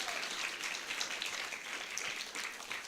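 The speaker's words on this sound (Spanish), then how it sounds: "Un aplauso" An audience applauds at a human rights week event with steady, dense clapping that holds evenly throughout at moderate loudness, with no speech over it.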